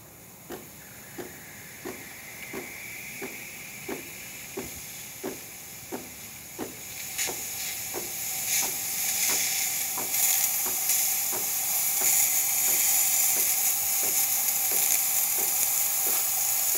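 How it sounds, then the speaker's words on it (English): Steam wand of a DeLonghi ESAM 3300 espresso machine, starting with a quick series of rhythmic pump ticks under a soft hiss, then building into a loud, steady rushing steam hiss close by. "That's just the steamer."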